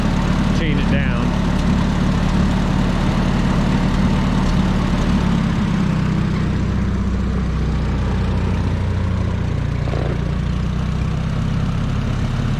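A tractor engine fitted with a replacement exhaust manifold taken from a 670 runs steadily throughout, a loud, continuous low rumble with a near, idling character and no pauses.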